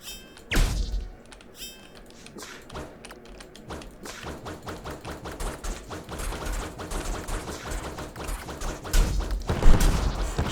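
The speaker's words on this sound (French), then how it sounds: "quand il y a des explosions, par contre, je vois que ça vous casse les oreilles" Rapid bursts of explosions and gunfire-like bangs from the action RPG video game CrossCode, dense and repeated thumps building toward louder booms near the end, with no talk over them.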